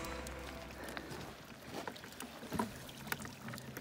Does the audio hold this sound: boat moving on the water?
yes